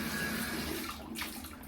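Water runs steadily from a Y-Garhe LED bathroom sink faucet, a close, continuous hiss and splash that shifts slightly near the end, with no one talking.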